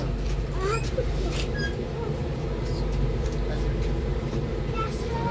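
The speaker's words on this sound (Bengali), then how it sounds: "তারপরে দেখো ট্রেন ছেড়েও দিয়েছে।" A train pulling out of Malda station, heard from inside the carriage as a steady low rumble and rattle with faint higher squeals and clanks, continuous and fairly loud.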